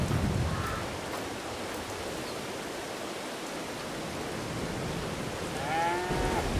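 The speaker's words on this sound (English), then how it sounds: "let's get in here and let's feed the cows. Let's get out of this rain" Steady rain hisses on a farm in Farming Simulator 22 while cows low nearby, with a short moo early on and another toward the end, all at a moderate, even level.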